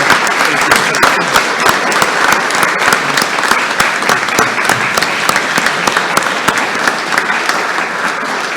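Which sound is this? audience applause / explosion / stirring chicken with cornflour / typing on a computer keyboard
audience applause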